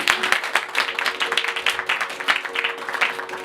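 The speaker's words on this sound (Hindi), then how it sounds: "मैं चाहता हूँ आप जोरदार तालियां बजाएं।" A church congregation at a Christmas program claps in a dense burst of applause that holds steady throughout, with many hands clapping at once.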